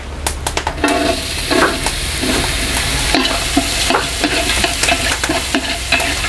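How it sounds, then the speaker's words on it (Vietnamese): Lemongrass root pieces sauté in a giant pot for a vegetarian fermented-fish-style hotpot, with a loud, steady sizzle under repeated scraping and clacking stirs of a utensil against the pot. "Khử gốc củ sả."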